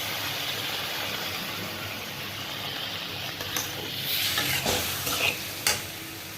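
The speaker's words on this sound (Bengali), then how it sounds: "গুঁড়ো মশলা যেহেতু দিয়েছি, একটু জল দিয়ে বেগুনটা একটু নাড়াচাড়া করব।" Brinjal fried with ground spices and dried chilli is stirred in a pan, giving a steady close sizzle with scraping strokes that grow busier toward the end.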